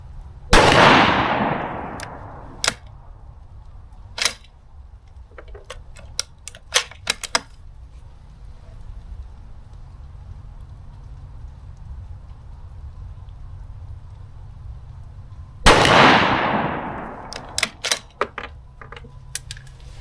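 Two loud rifle shots fired from a shooting bench with a Vanguard Equalizer 2 bipod, each a sharp crack followed by a long rolling echo, roughly fifteen seconds apart, with small clicks and handling noises in between.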